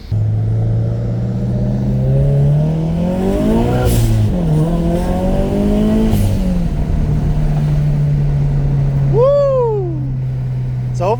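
A turbocharged Subaru BRZ engine heard from inside the car with the windows down, a steady loud drone that climbs and dips through gear changes while driving, with a brief whistling squeal near the end.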